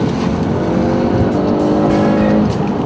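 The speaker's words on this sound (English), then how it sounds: "it's the engine tone of the RS that really makes it something special" Ford RS engine revving loudly and steadily up close, a dense, throaty roar holding for a few seconds with no talk over it.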